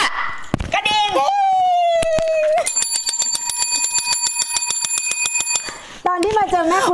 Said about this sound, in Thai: กระดิ่ง